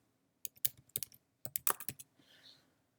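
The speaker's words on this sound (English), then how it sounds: "now I'm going to type my predefined template by typing the abbreviation" Keys clatter on a computer keyboard as a short abbreviation is typed into OSCAR letterhead software, a quick burst of crisp clicks in two rapid clusters, followed by a soft hiss in a quiet room.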